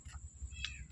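A cat meows faintly twice in quick succession at night near a cemetery, the short calls far off and soft over a low background rumble.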